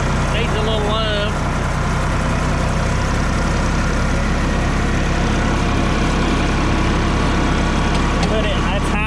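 An International 464 tractor's diesel engine pulls away in high second gear, a steady loud low rumble running throughout with voices talking over it.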